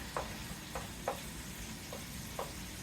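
Sliced pork sizzles steadily in a pan while being stirred and pushed from the center, with a soft constant frying hiss punctuated by about five light scraping taps from the utensil.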